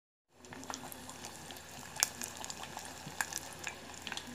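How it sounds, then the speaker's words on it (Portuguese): Giant pork rinds (torresmos) frying one at a time in oil after baking, a soft continuous sizzle with scattered crackles and pops, fairly quiet. "Já tirei do forno, agora estou fritando um de cada porque é muito grande."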